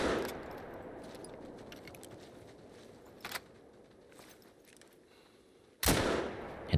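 Rifle fire while hunting water buffalo in the video game Call of the Wild: a short, sharper crack midway, then a louder, closer blast near the end over a steady low ambient rumble.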